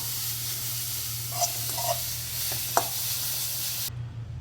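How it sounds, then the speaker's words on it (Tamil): Beetroot being stir-fried in a pan gives off a soft, steady sizzle, with a few light scrapes from stirring, fairly quiet and with no talk, ending abruptly. "இப்போ பீட்ரூட்டை ஒரு பரட்டிட்டு அடுப்பை ஆஃப் பண்ணிடலாம்"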